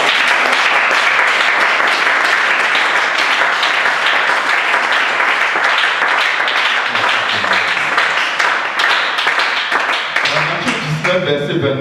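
A church congregation applauds in loud, dense, sustained clapping that fills the whole stretch and thins slightly near the end.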